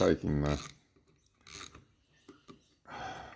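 Mechanical clicking and ratcheting come from a fishing reel as its front drag is unscrewed and lifted off, in short close bursts separated by quiet gaps.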